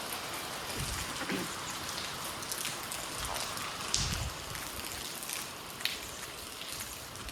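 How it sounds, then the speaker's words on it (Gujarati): Rain falls in a soft, steady patter with occasional louder drips and taps close by. "વરસાદ ચાલુ થઈ ગયો"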